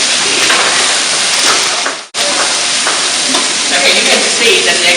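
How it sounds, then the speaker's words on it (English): Vegetables, including eggplant, stirred as they fry in oil in a pan for ratatouille: a loud, continuous sizzle with stirring scrapes, briefly cut off once partway through. "So throw that in the pan as well, and keep stirring."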